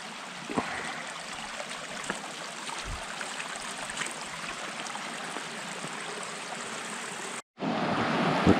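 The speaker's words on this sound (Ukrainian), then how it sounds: "А далі йде річка" Steady broadband rush of a river flowing close by in the Carpathian forest in November, continuous throughout with a brief cut near the end before the flow resumes.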